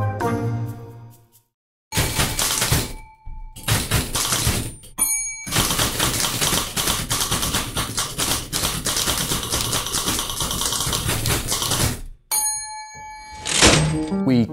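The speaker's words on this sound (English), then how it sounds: "We play a wide variety of typewriters." Typewriters are played as musical instruments: rapid clattering keystrokes, heavy thunks and bright bell dings carry a rhythmic, loud performance with brief pauses between passages.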